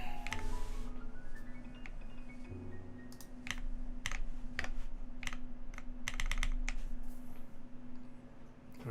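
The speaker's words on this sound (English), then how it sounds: "Is it finally time to listen to what this keyboard sounds like?" Keys are typed on a custom-built mechanical keyboard in a rapid speed-typing run, producing a steady stream of crisp, close clacks with irregular bursts over a faint background hum.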